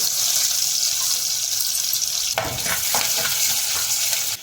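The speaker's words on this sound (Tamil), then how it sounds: "இப்போ நம்ம கடுகு, வெந்தயம், வெந்தயம் போட்டதுக்கப்புறம் இடித்து வச்ச பூண்டு ஆட் பண்ணிக்கலாம்." Mustard seeds, fenugreek and crushed garlic fry in hot oil with a steady, bright sizzle; from midway, a few sharp clinks and scrapes of stirring cut through, with no talking.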